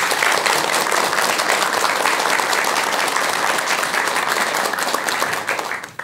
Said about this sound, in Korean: 여러분 큰 박수 부탁드립니다.